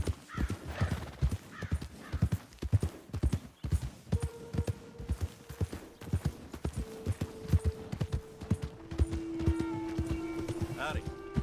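Horse hooves clip-clop at a steady walking rhythm in the Red Dead Redemption 2 video game, close and clear, with occasional snorts and a whinny while characters talk over the steps.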